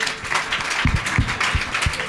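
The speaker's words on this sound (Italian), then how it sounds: "Applauso da dietro la finestra." Applause coming from behind a window during a book event at Parker's: scattered, fairly close hand claps with irregular rhythm, a few sharp thumps among them, and no clear talk.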